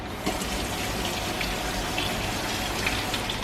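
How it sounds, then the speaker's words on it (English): Tap water gushes steadily over a chunk of beef being rinsed in a sink, a continuous close splashing rush with slight fluctuations and no talk. "So here's our chunk of beef. Very nice looking. I'm gonna give that a quick rinse."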